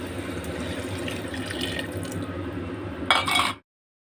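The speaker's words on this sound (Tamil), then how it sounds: "இப்போ தண்ணி ஆட் பண்ணிக்கலாம்" Water pours steadily into a bowl of rice for a few seconds, with a brief louder splash near the end before it stops.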